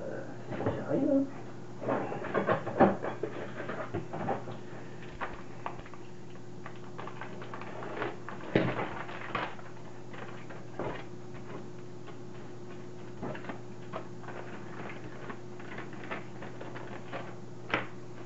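Packaging of an HPI kit for a Traxxas Slash 4x4 being opened by hand, with scattered crinkling rustles and small clicks that cluster at the start and mid-way, over a steady low hum.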